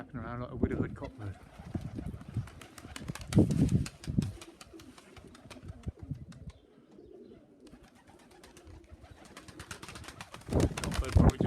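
A widowhood pigeon cock claps its wings in flight, giving bursts of rapid clattering flaps in two spells, mixed with pigeon cooing nearby while people talk.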